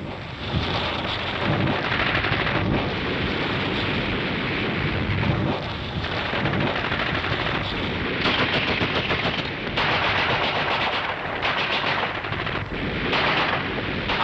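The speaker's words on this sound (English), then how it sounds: "Suddenly they come under fire and dive for the riverbank." Gunfire breaks out in a 1961 military exercise as troops come under fire near a riverbank, sustained loud crackling bursts over a dense rumbling wash throughout.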